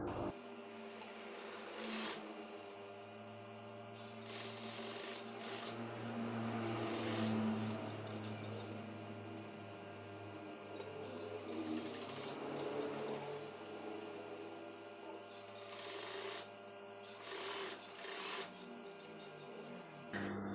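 A sewing machine stitches the side pocket of a koko shirt with a steady mechanical hum that runs on continuously, broken by a few short pauses and bursts.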